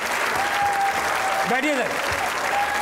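Studio audience at the TV comedy talk show Hasna Mana Hai applauding continuously and fairly loudly, while someone speaks briefly over the clapping.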